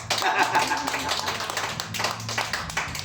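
A church congregation claps for God during a sermon, uneven bursts of hands clapping with voices talking and calling out through it.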